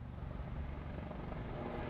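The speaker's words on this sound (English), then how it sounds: "Military helicopters." Military helicopters flying overhead make a continuous low rotor rumble, fairly faint and unbroken, with no talk.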